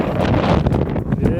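Cold gusting wind buffets the microphone at Jungfraujoch, the high-altitude Top of Europe station in the Swiss Alps, a loud rough roar that swells and dips, with a voice speaking briefly over it.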